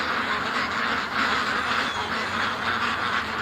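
Upset ducks quack loudly and continuously at close range, their calls overlapping into a dense, agitated clamor.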